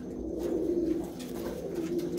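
A yellow-eyed female pigeon coos low and steadily, with soft, continuous cooing close by and no talk.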